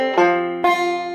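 Banjo picking from a beginner Salt Creek lesson: two bright plucked notes, each ringing with clear metallic overtones and decaying, the second struck after a short pause, close and alone.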